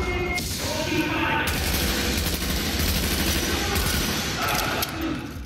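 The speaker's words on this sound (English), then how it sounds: "I'm just shooting into the cloud." Sustained gunfire crackles through a firefight in The Division, a dense continuous barrage of rapid shots holding loud and steady from start to finish.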